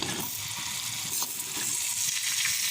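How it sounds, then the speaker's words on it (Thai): Potato chips frying in hot oil for homemade fish and chips, a steady, dense hiss and crackle of bubbling oil that continues evenly throughout. "ทอดมันฝรั่ง"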